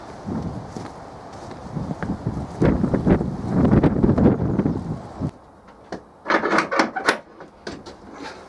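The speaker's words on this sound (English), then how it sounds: "It is windy out there." Gusty wind on an allotment plot buffets the microphone in loud rumbling bursts, easing off then flaring again, with faint rustling and knocks.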